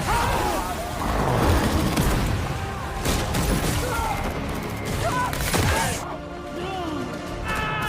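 Film gunfire as soldiers shoot at armoured aliens near a bunker: a dense, sustained barrage of shots, crashes and booms, loud and continuous, fading into quieter clatter near the end.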